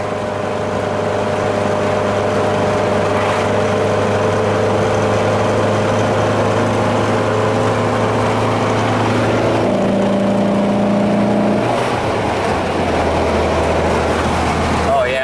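A freshly built VW 1800 engine drives a car with a constant loud droning hum and a steady pitch that shifts slightly partway through, while someone talks over it.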